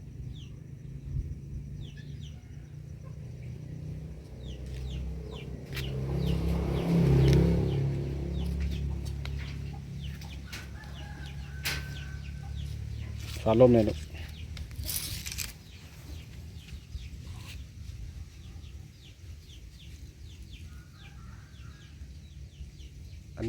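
Chickens cluck in a farmyard, scattered short calls rising now and then over steady background noise, with a brief voice speaking and occasional rustling nearby.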